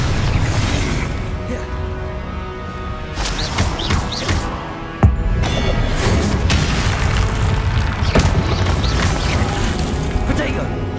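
Confringo explosion spell cast during a boss fight in the Hogwarts Legacy video game, a booming burst set within a dense, continuous mix of battle effects and music.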